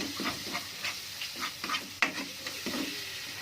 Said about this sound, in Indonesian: Tumis sampai benar-benar matang.